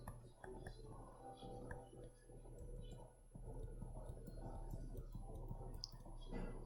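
Calculator keys pressed one after another give soft, quiet clicks and ticks at an uneven pace, close by, over a faint background hum.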